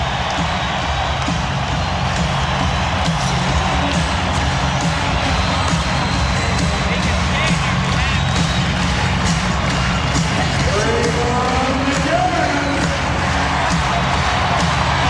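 A basketball arena crowd roars through a 1992 NBA Western Conference playoff game, Phoenix Suns at Portland Trail Blazers in Oregon. The cheering is loud, dense and sustained without a break, with a faint voice in the mix.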